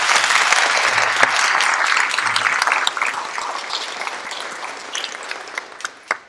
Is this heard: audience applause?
yes